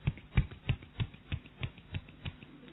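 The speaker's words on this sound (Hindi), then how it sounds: "एक हाथ की ताली" Fingers of one hand slapping against the palm in a one-handed clap, about nine sharp snapping claps in a steady, even rhythm, close and fairly quiet with no talking.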